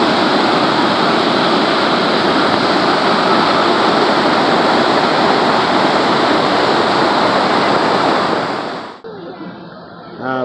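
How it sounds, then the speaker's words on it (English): Water at a water park's lazy river, captured from inside a waterproof case: a steady, loud, muffled rush of broadband churning that holds constant for about nine seconds, then suddenly drops away to quieter underwater-sounding gurgles. "We're just floating down the lazy river."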